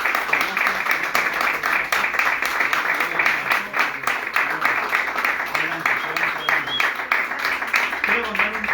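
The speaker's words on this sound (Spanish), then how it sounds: "quiero un fuerte aplauso para Solia" An audience applauds steadily for Solia, a dense, sustained wash of many hands clapping at close range that carries on for several seconds, with faint voices beneath it.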